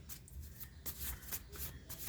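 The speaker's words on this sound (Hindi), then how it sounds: "मैं यहाँ पे कार्ड्स एक निकालती हूँ कि क्या है आप लोगों के लिए एडवाइस" Tarot cards are shuffled and drawn close by, with soft, quick papery riffles and slides repeating at a quiet level.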